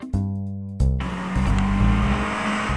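A cartoon car from Teen Titans Go revs loudly and speeds off, its tires squealing in a sustained, close screech after a short burst of engine noise.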